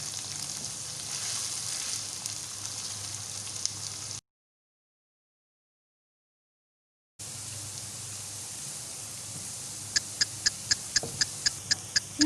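Onions frying with garlic-ginger paste and green chilies, a steady sizzle that drops out briefly, then returns with a run of sharp rhythmic taps of a utensil against the pan.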